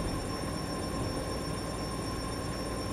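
A train in Japanese Rail Sim on the Kurama Line to Kyoto brakes and rolls into a station. It makes a steady, moderately quiet rumble with a faint continuous whine over it.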